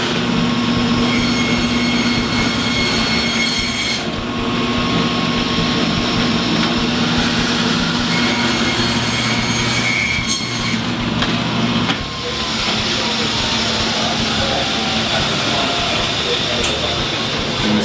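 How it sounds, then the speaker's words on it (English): Bandsaw running continuously and steadily through dry aged beef and bone, a close, loud mechanical whine with grinding texture that shifts slightly partway through, with a person talking over it. "the bandsaw will rip through the bone and rip through some of the meat"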